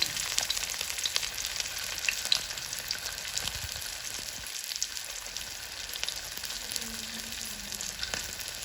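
Fish frying in oil, a continuous soft sizzle with fine crackles and spatters close by, steady and fairly quiet throughout, with no voices.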